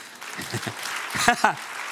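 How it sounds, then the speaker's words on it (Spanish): A church congregation applauds during a pastor's sermon, the clapping making a continuous, moderately loud wash while a few voices call out briefly over it. "Dale un aplauso al que reina."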